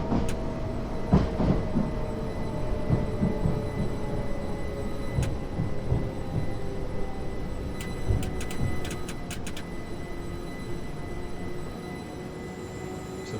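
Simulated electric multiple unit in Train Simulator 2020 rolling cautiously toward a blocked line, a continuous low rumble with soft rhythmic thumps and a few sharp ticks, no voices.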